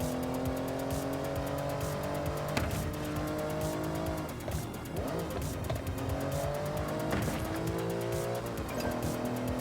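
A car engine in the game Forza Horizon 6 revs hard and climbs in pitch, dropping sharply at each gear shift, with tire squeal mixed into the continuous roar.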